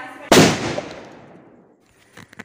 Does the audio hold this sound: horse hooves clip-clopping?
no